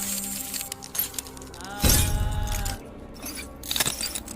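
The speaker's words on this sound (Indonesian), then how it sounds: "Dengan ditandai kaca berada di sebelah Henry mulai retak." Glass cracking and breaking in a horror film scene, a sudden loud crunching burst that lingers with shattering debris, followed by fainter clinks.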